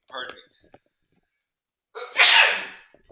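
A single sharp, loud human sneeze bursts out close to the microphone after a brief quiet pause, following a short moment of talk.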